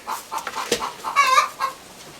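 Young rooster still growing in his adult feathers, clucking in a short run of soft, close calls with a brief higher warble, alone over light background noise.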